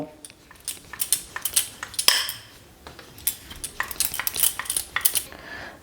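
A wooden rolling pin knocks and rolls over methi paratha dough on a board, irregular clacks and thuds coming in quick close bursts, with occasional louder taps and no voices.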